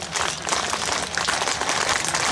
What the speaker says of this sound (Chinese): 可以来一个爱的掌声好不好